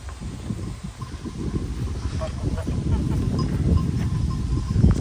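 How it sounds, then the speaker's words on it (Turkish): A flock of sheep arriving on a mountain pasture gives a busy, close mix of bleats, shuffling hooves and faint bell clinks that grows steadily louder across the stretch. "bu arada da koyunlarımız geliyor"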